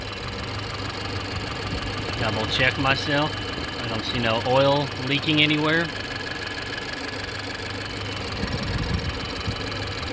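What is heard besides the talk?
car engine idling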